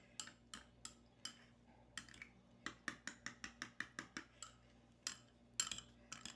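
A spoon stirs chutney mixed with chaat masala in a bowl, giving quick, light clinks against the bowl in an uneven but steady rhythm. The sound is close and faint over a low steady hum.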